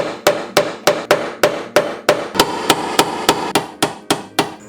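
Sheet metal on a Scion FR-S/Subaru BRZ being dented in with a hammer, about fifteen loud, evenly spaced metallic blows in quick steady rhythm, each ringing briefly before the next.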